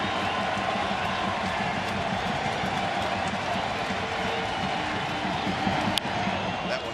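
Baseball stadium crowd roars steadily through a full-count at-bat in a Texas at Oakland game, a dense continuous cheer with a sharp accent near the end.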